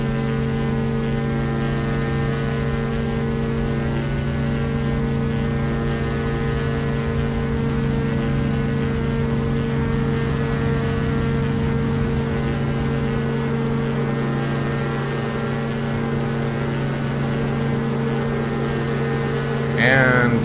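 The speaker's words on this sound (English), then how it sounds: "Listen to the engine sounds." Twin engines of a Diamond DA-62 at takeoff in the X-Plane flight simulator drone with a steady, loud, tonal hum that holds evenly throughout.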